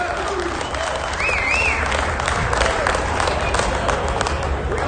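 A crowd claps and cheers at a motorcycle show, a loud continuous wash of applause rolling on for several seconds, with faint voices mixed in.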